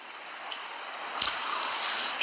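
Sauce pours onto a plate of Indian food with soft, close liquid splashing and sloshing. The pour gets louder and fuller partway through.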